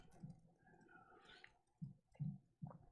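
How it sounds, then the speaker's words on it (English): Something clicks and rattles around inside a person's mouth, close to the microphone: a soft murmur first, then a few short, distinct clicking bursts near the end. "You hear it clicking around in my mouth."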